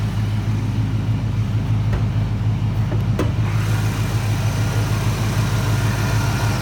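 A car engine idles close by, a steady, even low hum that holds for several seconds with a few faint clicks over it and no talking.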